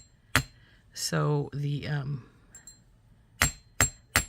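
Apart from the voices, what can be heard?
hammering jewelry wire with a nylon or metal hammer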